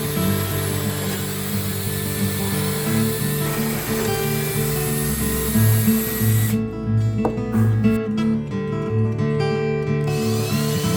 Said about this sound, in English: we've got the countersinking adapter onto our bit here in the rigid screw gun. I'm gonna run probably about 6 holes down the length of this